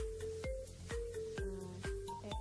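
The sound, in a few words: iPhone notification sound playing on an Android phone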